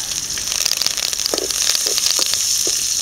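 Mustard seeds, chopped chilies and curry leaves fry in hot oil for a mutton gravy, giving a steady close sizzle with scattered pops and crackles throughout.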